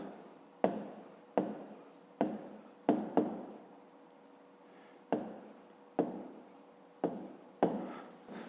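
A pen writes an answer on paper during a fifth-grade math exercise, producing about a dozen short scratchy strokes in uneven rhythm, close and distinct against a quiet background.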